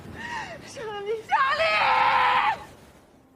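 A woman in a film screams hysterically, with rising wailing cries that build into a long, loud, sustained shriek before fading out.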